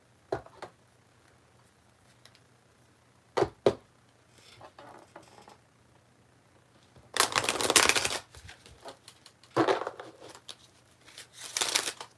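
Oracle cards being shuffled in a quiet room, a few sharp taps followed by dense bursts of riffling and sliding card stock, close and clear between stretches of near silence.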